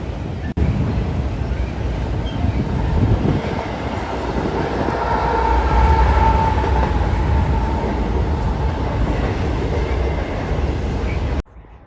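A Norfolk Southern freight train rolls steadily past with a BNSF H2-9 locomotive working as a mid-train DPU, a loud, continuous roar and wheel rumble near at hand that holds for nearly the whole stretch before cutting off.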